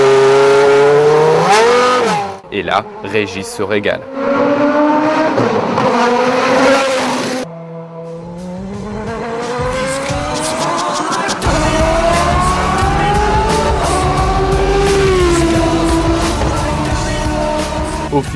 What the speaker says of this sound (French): Au volant d'une monoplace de F1 de 2001, à la puissance insolente de plus de 750 chevaux, que crache son moteur V10